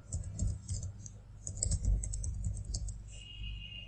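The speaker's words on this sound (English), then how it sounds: "Type in your password and click on sign in." A password is typed on a computer keyboard as a close, brisk run of uneven keystroke clicks, followed by a faint steady tone near the end.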